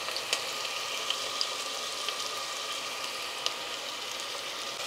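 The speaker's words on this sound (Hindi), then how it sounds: "प्याज को हम बस फ्राई करेंगे 2 से 3 मिनट के लिए" Onion, ginger, garlic and green chillies frying in a pan for a brinjal dish, a steady, close hiss of sizzling oil with scattered small pops and crackles, alone without talk.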